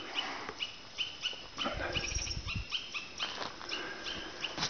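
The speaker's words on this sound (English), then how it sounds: "I got a bunch of squirrels barking at me." Faint, repeated sharp chirping barks from squirrels in the distance on a mountain, irregular and overlapping, over a steady outdoor background hiss.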